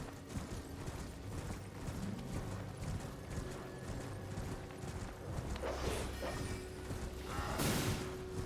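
Horse hooves clip-clop in a video game, a steady rhythmic clatter of steps running through the whole stretch over a busy background of game ambience, moderately loud and close.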